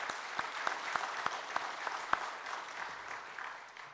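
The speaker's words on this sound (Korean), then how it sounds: "그렇게 우리 박수 한번 하겠습니다." A church congregation applauds during a Korean Sunday worship service: evenly paced, fairly quiet clapping that fades slightly toward the end, with no talking.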